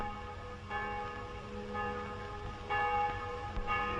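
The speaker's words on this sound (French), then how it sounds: "Et je ne vous parle pas des cloches?" Church bells ring in a steady, moderately distant peal, with repeated strikes whose tones linger and overlap against a soft background hum.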